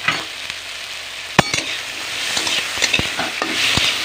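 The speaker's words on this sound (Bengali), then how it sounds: "চলুন এবারে নেড়ে নিই।" Moringa drumsticks and tomato stirred in a frying pan, with a steady sizzle and scattered sharp scrapes and clinks of the spatula against the pan, fairly close and with no talk.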